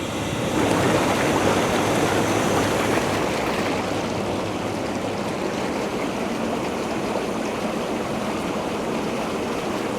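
An aquarium bubbler running in a tank fitted with Ruyilam submersible LED lights, giving a steady, close, gurgling stream of bubbles that rises slightly at the start and then continues evenly without any talk.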